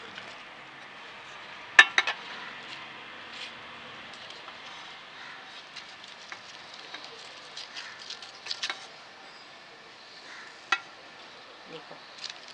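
An oven-baked white sponge cake is demolded from its tin: a few light metallic taps and small clatters spread across a quiet, faintly hissing background.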